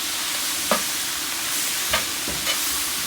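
Bok choy, sugar snap peas, red peppers and portobello mushrooms stir-frying, a steady hiss of sizzling with three brief scraping tosses spaced across the moment.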